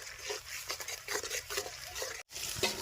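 Garlic, ginger and chili-cumin pastes stirred together in a pan on a village cooking fire, a steady scraping and soft sizzle running on with a brief pause before the stirring resumes.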